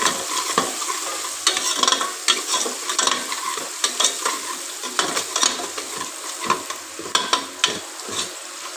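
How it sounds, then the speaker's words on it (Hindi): Chopped garlic stirred and fried in a pan until lightly golden, for a mash dal dinner: continuous crackling sizzle with repeated scraping stirs of the spatula, close and fairly loud, no voices. "लहसुन डाला और इसको थोड़ा सा ब्राउन कर लेते हैं।"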